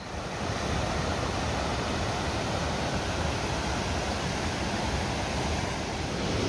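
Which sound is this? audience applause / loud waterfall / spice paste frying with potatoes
loud waterfall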